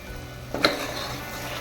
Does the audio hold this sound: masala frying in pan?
yes